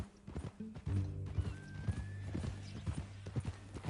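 Horse hooves clip-clop in a steady walking rhythm while a horse lets out a whinny, fairly close, with a faint voice in the background, in the video game Red Dead Redemption 2.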